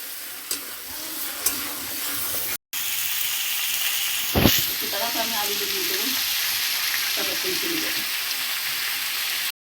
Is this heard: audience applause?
no